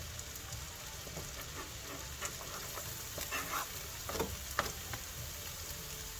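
Garlic fries in hot oil in a pan, a steady, close sizzle with faint crackles and occasional small pops, running continuously without talk.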